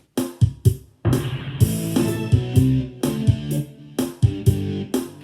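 Punchy orchestral stab hits strike repeatedly in a rhythmic pattern, each short chord burst sharp and bright, some layered over a sustained chordal swell, in a backing track.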